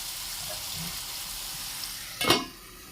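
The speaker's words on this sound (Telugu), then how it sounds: "అల్లం వెల్లుల్లిపాయ పచ్చివాసన పోయేంత వరకు కొంచెం వేపాలండి" Ginger and garlic fry in a pan for a flat-bean masala gravy, giving a steady, even sizzle. A sharp burst of stirring or added moisture rises near the end, then settles.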